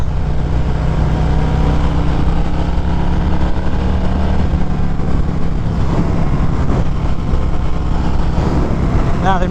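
A 2021 Harley-Davidson Fat Boy motorcycle rumbles steadily while being ridden, its deep, loud V-twin engine drone continuous and close throughout.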